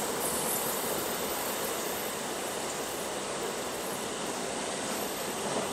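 A MEMU passenger train runs alongside a freight train on an Indian Railways line, a loud continuous rumble and rush of wheels on track that stays dense and unbroken throughout.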